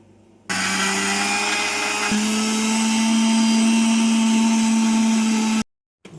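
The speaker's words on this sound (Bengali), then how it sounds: "দেখো আমরা এবার এটাকে মিক্সারে পেস্ট করবো কিন্তু আমরা এর মধ্যে কোনো জল দেব না" A mixer grinder pastes grated coconut with no water added, giving a steady, loud motor whine that drops slightly in pitch partway through and runs about five seconds before stopping abruptly.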